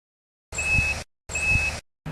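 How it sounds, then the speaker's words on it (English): Two steady electronic tones from a MINEORO DC2008 directional metal detector held over a buried target, each lasting about half a second with a short gap between, loud and close, no talk, a third starting at the end. "the detector will emit a beep"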